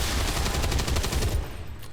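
A cannon weapon fires in the video game Long War 2, a loud rapid burst of shots that rattles for over a second before cutting off and fading.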